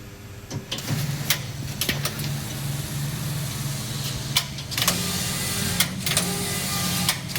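A collar knitting machine runs tubular knitting with a steady mechanical drone, broken by repeated sharp clacks and bursts of carriage movement throughout, loud and close.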